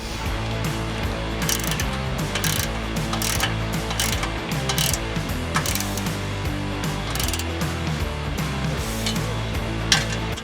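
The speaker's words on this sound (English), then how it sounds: "sometimes the impact driver doesn't tighten them" Continuous mechanical ratcheting and whirring of an impact driver working lug nuts on a Toyota 4Runner, loud and steady with rapid repetitive clicks and hammering bursts throughout.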